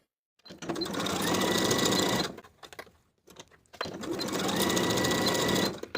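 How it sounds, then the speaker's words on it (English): Sewing machine stitching the side seams of a jumper, two sustained close runs of rapid needle whirring separated by a short pause with light handling noises. "Sew the side seams with 1/2 inch seam allowance"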